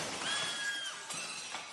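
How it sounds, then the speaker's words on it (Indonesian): A driverless electric taxi rolls backward into a restaurant's glass front, and the pane shatters in a bright, brittle crash with tinkling shards. A thin ringing tone sits above the noise, and the whole clip is loud and close. "Akibat hantaman cukup keras, kaca hancur berantakan."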